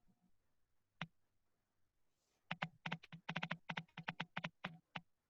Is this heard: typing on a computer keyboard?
yes